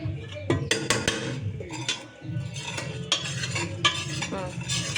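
A spoon scrapes and clinks against a metal pot as food is stirred, a steady busy stirring with faint sizzling beneath, close by, no talking.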